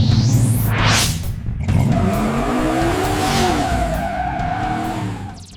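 A 350 V8 car with a Summit Racing 8802 cam, flat top pistons and a louder exhaust revs hard and rumbles loudly and continuously, with rising engine pitch and a brief tire-squeal-like edge, no talking.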